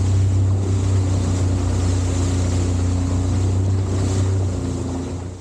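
A jet ski engine drones steadily while riding on the water off Chanthaburi, a loud close low hum mixed with water rush and wind buffeting that fades slightly at the end.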